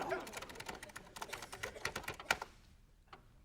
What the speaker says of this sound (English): Just type it out.